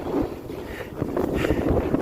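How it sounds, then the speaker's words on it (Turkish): Gusty wind buffets the microphone on a ski slope at Erciyes Ski Center, a rough, fluttering rush that rises and falls steadily close up. "Biraz rüzgar var."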